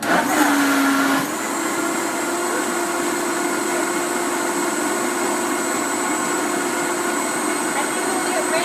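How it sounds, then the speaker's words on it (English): A Vitamix blender purees oil-free hummus, starting with a brief higher whir and then settling into a loud, steady roaring drone that fills the rest of the clip, close and uninterrupted. "This takes no time to blend in my Vitamix"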